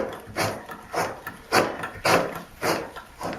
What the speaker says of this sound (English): But these just screw on here, and then I think it'll have to be pretty tight.